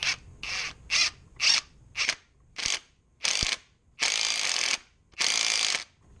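A MINI Cooper S R53 crank pulley is drawn onto the crankshaft with a bolt and ratchet, about ten close ratcheting bursts that grow longer toward the end, with no talk.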